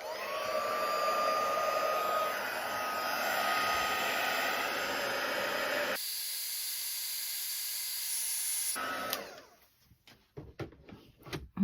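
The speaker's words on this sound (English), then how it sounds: "let's get the heat gun on it" Heat gun blowing hot air on a DIY keyring craft, a steady loud close whooshing hiss running for about nine seconds before it cuts off, followed by faint handling clicks.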